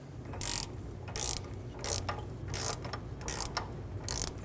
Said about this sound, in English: Now let's go ahead and torque these bolts down.